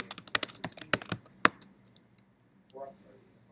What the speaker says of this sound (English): I'm just typing and then waiting a couple seconds